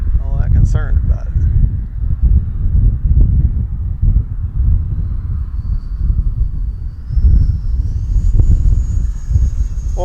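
An Arrows RC Marlin 64mm model jet with an electric ducted fan flies past, its whine rising and falling in pitch over wind buffeting, while someone talks over it.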